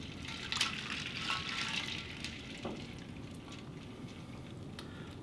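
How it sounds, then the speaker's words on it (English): Raw chicken is rinsed in a bowl of water in a kitchen, with gentle close sloshing and trickling water and a few brighter splashes over a soft, continuous flow. "I like rinsing off chicken in a bowl of water instead of in my sink"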